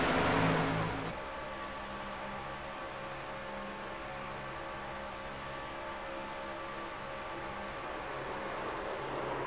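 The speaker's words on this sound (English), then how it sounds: "there you will hear the engine let go" Engine blowing up in a sim racing game replay at Daytona: a loud burst of roaring engine noise in the first second drops to a steady, droning mechanical hum with tonal whine that continues to the end.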